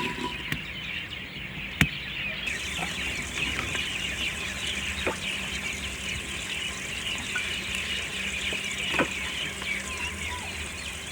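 Onions fry in oil in a degchi pot on the stove for matar pulao, giving a soft, steady sizzle at moderate distance with a few sharp clicks from utensils.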